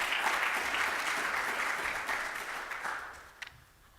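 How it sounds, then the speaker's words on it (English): Audience applause for members of a panel at a district energy governance workshop, a steady wash of many hands clapping that fades over several seconds. "So I'd like you to give them a round of applause."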